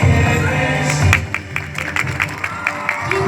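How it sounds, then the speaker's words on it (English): Applause from an audience at a kids' martial arts display at Beaconhouse School in Lahore, steady clapping mixed with crowd noise and a few voices, moderately loud and continuous. "Keep on clapping as they move on"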